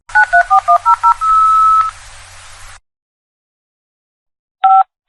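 Telephone dialing tones: a quick run of about eight short keypad beeps leads into a longer held tone. After a pause of silence, one more beep sounds, loud and clean.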